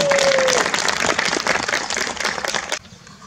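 An audience welcomes a speaker with applause at a peace and unification cultural festival marking the fourth anniversary of the Panmunjom Declaration. Dense, steady clapping fills the room and then cuts off sharply just before the end.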